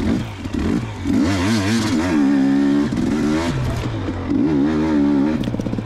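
A 2019 KTM 250xc two-stroke dirt bike on a cold, lightly snow-covered track, its engine revving up and down in close, loud surges with throttle changes.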